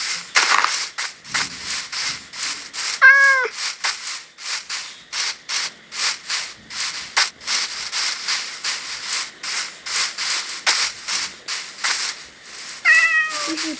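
A cat meows a few times inside the Minecraft game, short clear calls standing out over repeated rhythmic scraping and rubbing sounds, with no talking.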